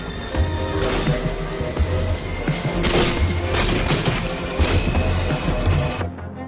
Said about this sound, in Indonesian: Hanya beberapa tembakan.